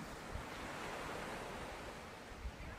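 Ocean surf washing onto a beach on a cloudy, windy day, a continuous broad roar of breaking waves mixed with gusting wind buffeting the microphone, with no voices.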